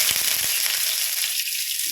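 Mustard seeds and chopped garlic frying in hot oil for masala puttu, a loud, close, steady hiss with a few light pops near the start.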